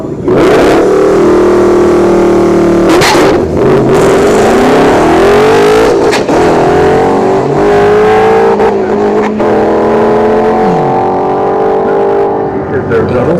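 A Honda CBR 1000 motorcycle launches down a dragstrip at a test-and-tune event, its loud engine howling and rising in pitch through rapid gear changes, with spinning-tire roar at the start, sustained and close throughout.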